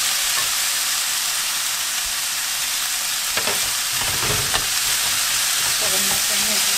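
Bacon and potatoes fry together in a pan for omelet rice, a continuous close sizzle broken by several scraping stirs and light clinks of the spatula, with no voices.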